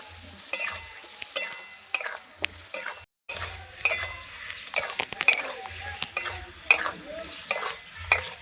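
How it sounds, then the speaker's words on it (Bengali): Spiced potatoes fry in a pan for a fish curry as a spatula stirs them, with frequent sharp metallic clinks and scrapes over a soft, steady sizzle, heard up close. "এবার ভালো করে নাড়াচাড়া করে নেব মশলা আলু আমি ভালো করে এবার কষাবো"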